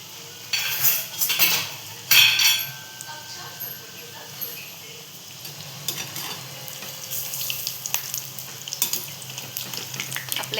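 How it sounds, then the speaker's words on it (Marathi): Colocasia leaf pakodas deep frying in hot oil, with a steady bubbling sizzle and scattered clinks of a utensil against the pan, fairly close. "इथे आता फ्राय करायला टाकलेले आहेत आपण"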